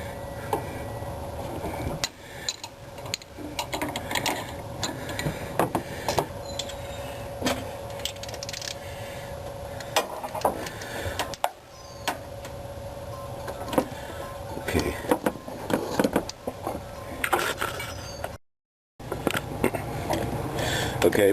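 A 5/8 socket tightens the adjuster on a car's steering box, giving irregular metallic clicks and ratcheting knocks close by over a low background hum, with short pauses and one brief dropout of sound.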